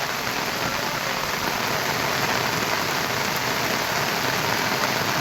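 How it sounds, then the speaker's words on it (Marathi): Heavy monsoon rain pours down in a dense, unbroken roar, loud and steady throughout with no voices. "कशा प्रकारे पाऊस लागतोय बघू शकता तुम्ही खूप जोरात म्हणजे खूप भयानक पाऊस लागतो आज"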